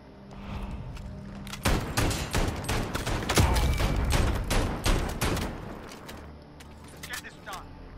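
Rapid gunfire from an MP5 in the Modern Warfare video game, dense bursts of sharp shots crackling in quick succession for several seconds, then thinning to scattered reports.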